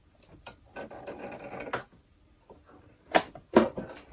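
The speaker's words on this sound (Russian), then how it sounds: "Делаем опять закрепочку и строчим." A sewing machine stitches fabric for a small doll's arms, running in short bursts with brief pauses and a couple of sharper mechanical clacks near the end, close and fairly quiet with no talk.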